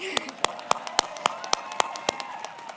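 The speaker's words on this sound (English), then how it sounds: "Let's clap for that." At a 145th college commencement ceremony, the audience applauds with crisp, evenly spaced claps that stand out close by against a softer, thinner patter of hands and faint voices.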